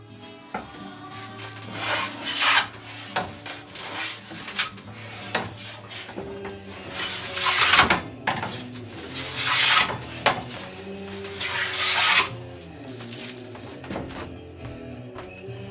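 Hand tool shaving and rasping wood from the loom of a Greenland paddle, with steady repeated scraping strokes in bursts, close and fairly loud, no talk.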